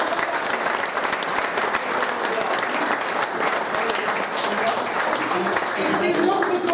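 An audience at a ceremony gives a person named Régis dense, continuous applause. The clapping stays loud and even for several seconds.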